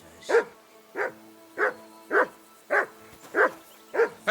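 A dog barks in the medieval role-playing game Kingdom Come Deliverance 2, with seven evenly spaced, loud, close barks and no talking between them.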